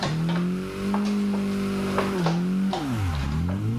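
A Mazda MX5 Miata drifting at a drift park, its engine droning at steady high revs, then dipping and climbing again as the throttle lifts, with tire noise underneath, close and loud.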